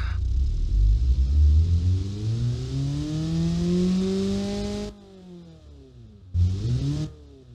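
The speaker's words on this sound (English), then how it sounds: "Sounds like a regular inline 4 engine that you would hear on the street" An inline four car engine in the racing-sim game Automation revs up with a rising whine, holds high, then cuts off abruptly, followed by a short second blip of revving near the end.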